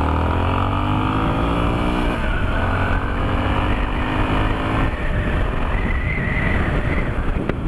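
An unplated small motorcycle engine runs continuously while being ridden, a loud, steady droning roar with shifting pitch and road rumble filling the whole stretch, with no talking.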